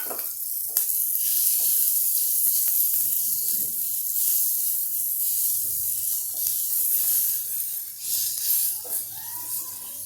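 Loud, steady sizzling and hissing of green peas dropped into hot oil tempering, a bright crackling spray that continues throughout with slight stirring movements.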